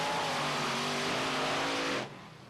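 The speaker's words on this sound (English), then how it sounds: "It's Class 6, the fastest mud racing vehicles on the planet," A Class 6 mud racing vehicle at NMRO mud drags in Bloomsburg, Pennsylvania roars with a loud, sustained high-revving engine for about two seconds, then cuts off sharply, leaving a faint rumble behind.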